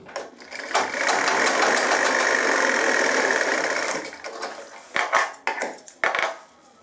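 A tailor's sewing machine stitches the body of a pair of gents' pants, running in one steady loud burst for about three seconds, then stopping and starting in short clattering spurts.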